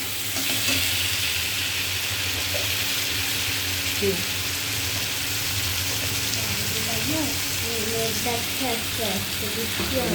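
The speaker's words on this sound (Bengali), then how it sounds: "মশলাটাকে সব কিছু মশলা দিয়ে মশলাটাকে আগে ভালো করে সুন্দর করে কষিয়ে নেব" Spice paste for fish curry sautéing in a pan, a continuous dense sizzle of frying close by with intermittent stirring scrapes, a voice speaking faintly underneath.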